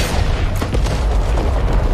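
A howitzer fires in the video game Back 4 Blood, giving loud, heavy booms with a rumbling low tail, several blasts in quick succession over continuous battle noise.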